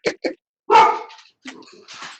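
Dog barking indoors during a selectmen's meeting, two quick yips followed by a longer, louder bark and a few softer trailing barks, close and clear over a quiet room.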